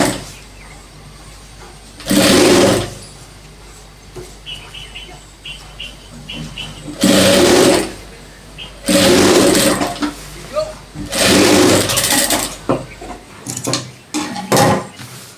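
A sewing machine stitches trouser fabric in several bursts of steady running, each a couple of seconds long, separated by quieter pauses with faint handling noise.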